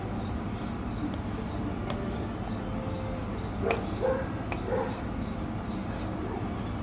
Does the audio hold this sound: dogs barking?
yes